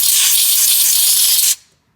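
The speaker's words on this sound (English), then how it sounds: "this long air hose to blow out the this stuff" Compressed air blasts through a long air hose during work on a 2003 Volvo V70 XC, a loud, steady, close hiss lasting about a second and a half before cutting off sharply into silence.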